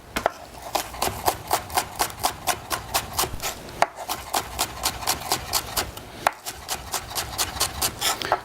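Steady knife chopping of green onions on a cutting board, a brisk run of crisp evenly spaced thuds with two short pauses, close and clear with no talking.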